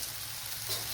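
Coriander, chili and turmeric powders fry in hot oil for a Kerala brinjal curry, giving a steady soft sizzle with a slight swell near the end, no voices.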